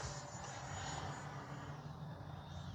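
An FMS Integral 80mm electric ducted-fan RC jet whooshes past in flight, a continuous steady whine with a slowly shifting pitch, heard from a distance outdoors.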